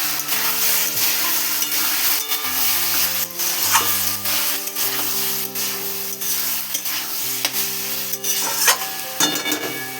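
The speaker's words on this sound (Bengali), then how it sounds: "এবারে চিংড়িটা দিয়ে নেব। এবারে নেড়ে নেব ভালো করে।" Prawns are stirred into sizzling spice paste in a pan for Bengali potol chingri curry: a steady close frying hiss with continuous scraping stirs and a faint underlying hum.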